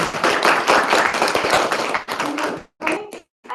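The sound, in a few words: audience applause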